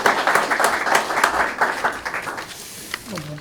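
An audience at a small business pitch competition gives a round of applause, lively clapping that tapers off as a voice begins speaking near the end.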